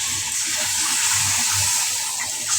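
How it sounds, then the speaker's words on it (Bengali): Water pours steadily into a pot of drumsticks, potatoes, aubergine and tomato, a continuous close gushing splash lasting a few seconds with no talking. "এবার আমি জল দিয়ে দেবো।"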